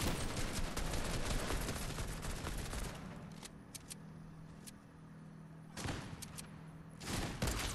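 Rapid bursts of shotgun fire in Fortnite crack loudly in the opening seconds, fading to quieter game ambience before another sharp volley, with no one talking.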